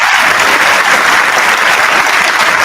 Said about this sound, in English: Give me the hand claps.